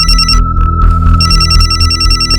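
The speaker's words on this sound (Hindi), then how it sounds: "राजेश का फोन है।" A loud electronic telephone ring repeats in rapid trilling bursts, pausing briefly before ringing again.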